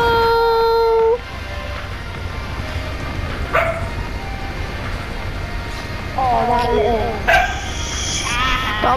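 Dog yips and barks sound intermittently in the background beneath loud game audio and excited talking.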